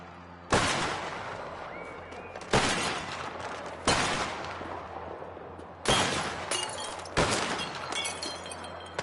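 Sharp gunshots from an assassin in Mafia: The Old Country ring out in five separate loud bursts spaced a second or two apart, each trailing into a noisy echoing decay.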